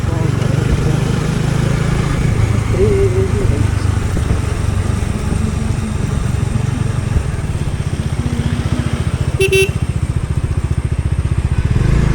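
A Bajaj Dominar motorcycle ridden on a highway from Bangalore toward Gokarna, its engine a steady close rumble mixed with wind buffeting, with a brief horn-like tone near the end.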